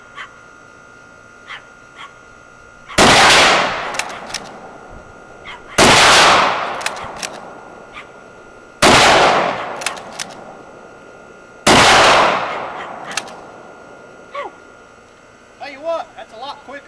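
Four loud, sharp rifle shots from a Swiss K11 bolt-action rifle fired in quick succession outdoors, spaced about three seconds apart, each with a ringing decay, followed by faint clicks of the bolt.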